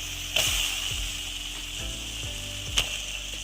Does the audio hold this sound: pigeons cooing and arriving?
no